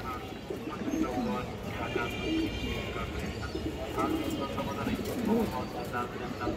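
Pigeons of an old flying breed, kept for sale, coo in low repeated rolling phrases under a dense bed of crowd noise and chatter, close and steady throughout.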